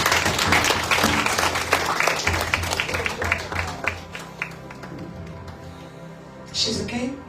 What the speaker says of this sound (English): come on clap hands for that